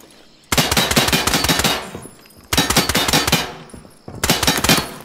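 Three loud, rapid automatic-rifle bursts from the video game Incursion Red River, each lasting over a second and separated by short quiet gaps, close and sharp.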